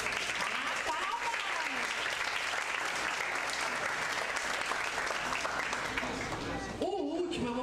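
Lecture audience at a university accounting week event in Brazil breaks into sustained, dense applause that fills the room for several seconds, then thins briefly near the end as a voice cuts in.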